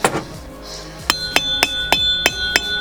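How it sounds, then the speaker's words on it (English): Six sharp metallic hammer taps on a socket, driving a trailer wheel bearing cone in, close and evenly spaced, each ringing briefly with a bright tone before the next strike. "just start tapping it in. Now make sure you tap it in evenly."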